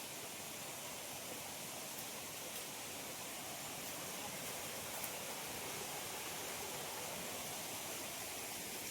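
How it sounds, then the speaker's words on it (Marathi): A small waterfall flows near a temple on a quiet nature trip, a steady, even rush of water that stays constant and moderately faint throughout, with no voices. "खूप छान पाणी म्हणजे धबधबा होता"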